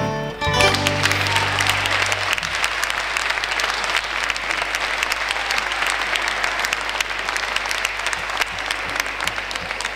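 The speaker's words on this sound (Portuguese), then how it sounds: "e vocês batem palmas a isto?" An audience at a fado gala breaks into sustained, steady applause, a dense wash of clapping that fills the space throughout with no talk over it.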